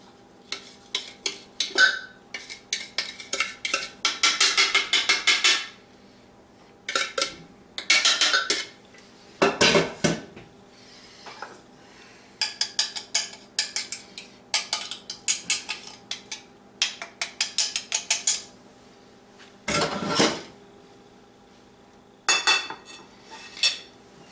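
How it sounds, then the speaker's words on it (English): Chicken cutlets being placed into a dish: bursts of clinking and clattering from dishes and utensils, separated by short pauses, fairly close and without speech. "Now we put it in a dish, just like this."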